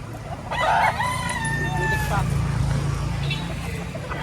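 Stag roosters crowing at a livestock auction market, one loud nearby crow over a steady low rumble of crowd noise, with people talking in the background.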